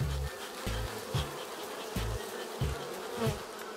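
Honeybees buzz steadily and close at a hive entrance being smoked, a dense insect drone with intermittent low puffing bursts from the smoker.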